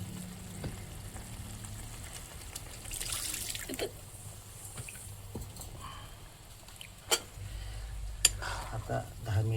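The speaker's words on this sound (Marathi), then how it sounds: "आपली भाजी खतखत उकळत आहे आता छान एकदम" A pan of vegetable curry with sambar bubbles and sizzles steadily, with soft scraping and a couple of sharp clinks from utensils against metal.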